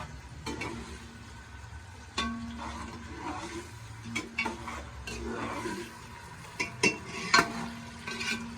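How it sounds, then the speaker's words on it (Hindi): Onions fry in a pan toward light brown, a soft continuous sizzle with intermittent stirring scrapes and occasional sharp utensil clicks against the pan, close and fairly quiet, no talking. "इसे थोड़ी देर फ्राई करेंगे ताकि ये लाइट ब्राउन हो जाए प्याज"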